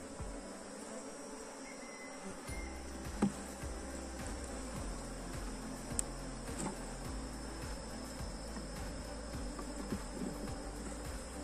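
Honey bees hum steadily around an open hive frame during an inspection, a continuous buzzing drone with faint clicks and handling noises close by.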